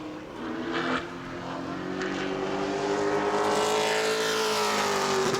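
A Pro Late Model race car on a qualifying lap at New Smyrna, its engine note climbing steadily in pitch as it accelerates past, loud and continuous, with the tone sweeping and a brief dip near the start.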